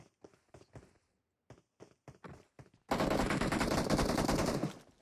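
Sustained burst of automatic gunfire from a battle in the mobile game PUBG Mobile, loud and dense for about two seconds, preceded by a series of short separate shots and footstep-like taps.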